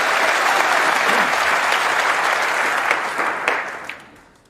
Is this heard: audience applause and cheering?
yes